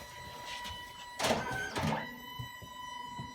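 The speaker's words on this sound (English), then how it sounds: "So this is connected to the printer right away. It's going to print." Mini photo booth printer running a print job: a quiet mechanical whirr with two brief louder feed pulses near the middle, close by and otherwise steady and faint.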